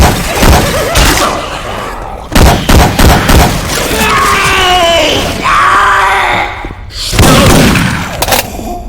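Bursts of game gunfire from Syphon Filter weapon sounds swapped into Left 4 Dead 2, loud volleys clustered at the start, middle and end, with screams, groans and voice lines in between.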